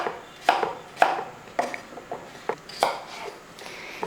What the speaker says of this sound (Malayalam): ഇത് നമുക്കൊന്ന് അരിഞ്ഞെടുക്കാം. തീരെ ചെറുതാണ്ടത് ഇതേപോലെ